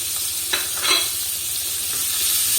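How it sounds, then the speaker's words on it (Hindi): Chopped vegetables frying over high heat in melted butter in a pan, a constant close sizzle with a few soft stirring scrapes and no voices. "1 से 2 मिनट हम तेज़ आंच पे ही फ्राई करेंगे"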